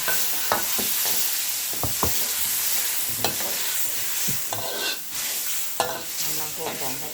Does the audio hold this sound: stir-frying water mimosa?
yes